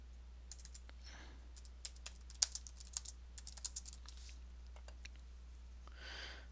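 Keystrokes on a computer keyboard while entering Excel VBA code, scattered quiet clicks in short irregular bursts over a steady low hum.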